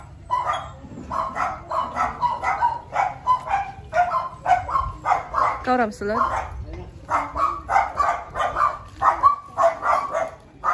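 A dog barks repeatedly and steadily, close by and loud, in a run of sharp evenly spaced barks while people speak briefly over it.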